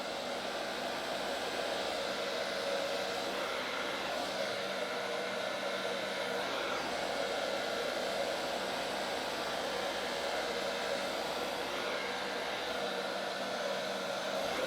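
Hair dryer on its hot setting blowing over alcohol ink on a gold metallic canvas, a loud steady rushing whoosh that runs unbroken throughout with no voices.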